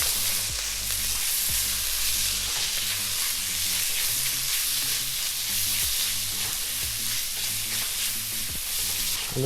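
Spices frying in a pan with turmeric and chili seeds for a sea bass fish curry base, stirred vigorously, make a loud, continuous sizzle with rhythmic scraping strokes and no talking.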